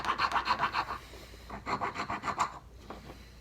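Hand rasp filing along a spiral groove in an antler tip, a run of rapid, even rasping strokes, a short pause, then a second burst of strokes, close and fairly loud with no talk.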